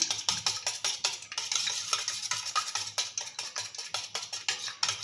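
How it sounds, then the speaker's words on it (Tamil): Two beaten eggs whisked briskly in a bowl for a semolina sweet snack, a close, steady rhythm of rapid clinking strokes against the bowl, continuous throughout with no talking. "நம்ம முட்டையை உடச்சி ஊற்றியாச்சு இதை நல்லா கலக்கிக்கலாம்"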